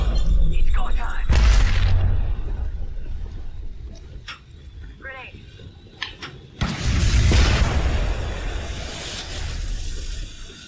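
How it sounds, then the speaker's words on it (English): A grenade goes off in the battle royale game Apex Legends: two loud booming blasts with crackling debris about five seconds apart, over constant in-game ambience with voices talking. "Grenade."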